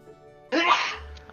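A single sharp human sneeze bursts out close and loud after a brief quiet lead-in, then fades into a low murmur.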